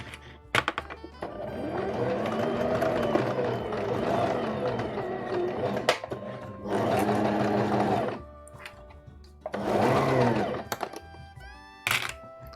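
A sewing machine stitches a dress in several bursts of steady motor whir, separated by short pauses and small clicks and thunks from handling the fabric, close and moderately loud with no talking.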